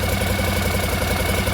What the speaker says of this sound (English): Nice warm engine, and it sounds so much better on that exhaust